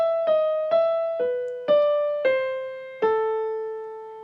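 Piano playing the opening melody of Für Elise, six clear single notes at a gentle, moderate pace, each ringing out cleanly, close and alone with no talking.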